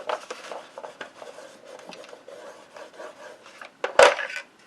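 Folded paper is burnished along a crease to form a hinge for a gift bag mini album, a series of quiet, close rubbing scrapes with one sharper, louder stroke near the end.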